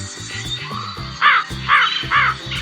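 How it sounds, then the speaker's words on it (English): Crow calls over background music: a faint early caw, then three strong, harsh caws in a steady rhythm. "The crow usually lives 10 to 15 years."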